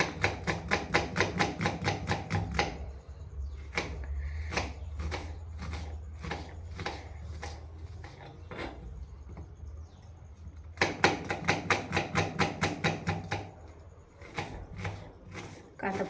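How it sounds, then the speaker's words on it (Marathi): Kitchen knife finely chopping onion on a board in fast bursts of crisp, rapid knocks with a pause in between, close up, as someone speaks quietly underneath. "कांदा पण एकदम बारीक कट करते."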